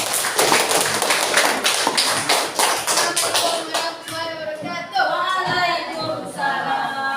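A room of students at a school counseling session claps together in dense, steady applause that thins toward the end into scattered claps with voices rising over it.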